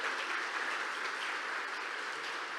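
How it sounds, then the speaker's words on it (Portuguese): Steady, dense applause from a church congregation fills the space at even strength throughout, with no voices standing out. "Você pode dar um aplauso ao nome de Jesus?"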